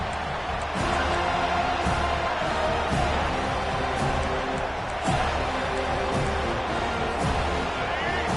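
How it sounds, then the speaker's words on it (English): Loud stadium crowd at a Florida State versus Colorado college football game, roaring continuously as the kickoff return runs out, with an announcer talking over the sustained din. "This crowd bringing an ear-splitting welcome to their visitors."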